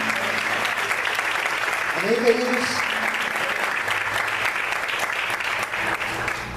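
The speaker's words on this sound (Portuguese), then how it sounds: "Você pode aplaudir o Senhor nessa manhã?" A church congregation applauds during a morning Sunday service, a steady dense wash of clapping throughout while a preacher speaks briefly over it.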